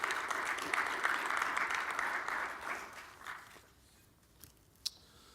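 A conference audience applauds a second vice president at opening remarks, a broad steady clapping that fades out after about three seconds, leaving a quiet room with a couple of isolated knocks.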